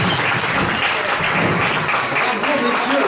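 Sustained, loud applause from a French television studio audience welcoming guests onstage, a thick continuous wash of clapping with crowd noise underneath.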